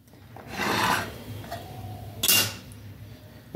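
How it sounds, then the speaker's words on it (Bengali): A carrot is scraped across a kitchen grater in two distinct rasping strokes, close and fairly loud, separated by a short pause with quieter scraping between. "একদম এইভাবে গ্রেটারের সাহায্যে ঘষে নিতে হবে।"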